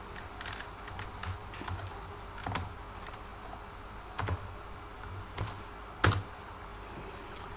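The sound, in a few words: typing on computer keyboard, pressing enter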